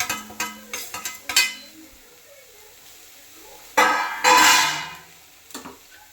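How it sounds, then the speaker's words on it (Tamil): Capsicum and vegetables are stirred in a pan for egg fried rice: a run of spatula scrapes and clinks, a quiet pause, then louder bursts of scraping and sizzle. "இப்போ நம்ம கேப்சிகத்தையும் ஆட் பண்ணிடலாங்க"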